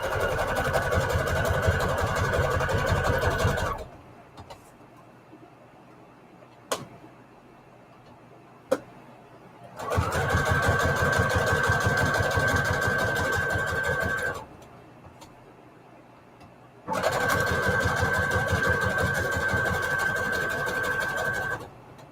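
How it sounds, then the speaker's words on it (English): A sewing machine runs a zigzag stitch through cardstock in three steady bursts of rapid mechanical ticking, separated by quiet pauses with a couple of sharp clicks, close and clear with no talk. "Let me do a zigzag stitch with this."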